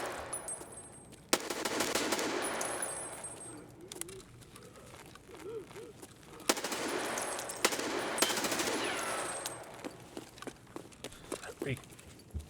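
M4 rifle gunfire in Escape from Tarkov: several sharp, loud shots and short bursts cut through a bed of ambient birdsong and cooing, with voices talking over parts of it.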